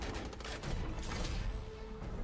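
Gunfire in a futuristic sci-fi shooter game, a faint, dense stream of rapid shots with crackling bursts and booms running continuously in the background.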